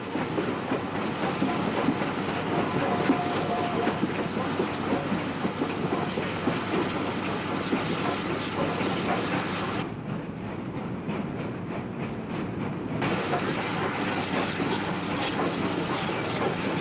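A steam train's cars roll steadily along rail tracks, with continuous close clickety-clack and rumble throughout, and a brief dip in the hiss partway through.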